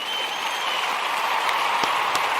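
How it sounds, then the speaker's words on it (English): Applause from a celebrating audience at a Nia gathering, a steady, dense wash of clapping that holds at an even level for the whole stretch, with a few sharper individual claps poking out near the end. "we want to give all of the Nia babies a round of applause."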